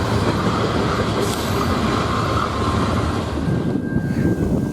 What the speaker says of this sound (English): Here we see a tied down BNSF coal train and NS Intermodal and a NS Manifest.